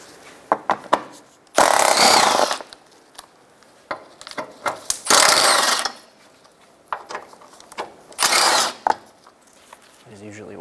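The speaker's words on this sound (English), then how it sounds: "To remove the undershield, start by taking out these four 12 millimeter bolts." A power tool removes 12 mm undershield bolts on a 2012–2016 Subaru Impreza, running in three loud, close bursts of about a second each, separated by rattling and clicking handling noises.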